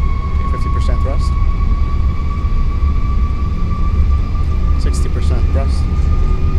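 Airbus A330-300 jet engines spooling at 50% takeoff thrust in the X-Plane 12 simulator, a steady loud roar with sustained tonal whine held throughout, while a voice talks over it.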